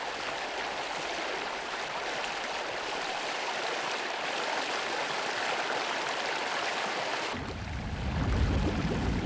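Rushing water pours steadily down low stepped concrete beside a river dam, a loud, dense, continuous roar that deepens and swells near the end.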